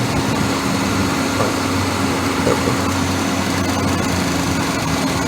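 A car engine with a rear main seal oil leak idles steadily at close range, giving a constant low rumble and hum with no speech over it.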